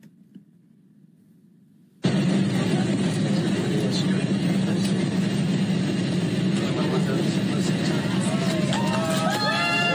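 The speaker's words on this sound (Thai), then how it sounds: "มีผู้โดยสารบนเครื่องปรบมือต้อนรับเขาด้วยนะ" Airline passengers aboard a plane clapping in welcome, a sudden loud burst of applause and cheering with crowd babble that starts after a quiet cabin hum and continues steadily, with children's voices and chatter mixed in.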